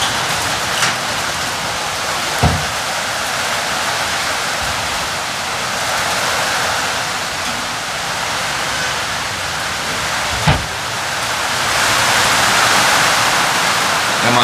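Steady rain falls outside on a rainy day, a loud, continuous hiss of drops on surfaces with a few sharp knocks.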